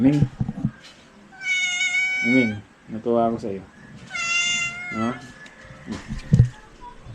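Two drawn-out, high meows from a nearby cat rise between stretches of close-up talking, each one clear and prominent.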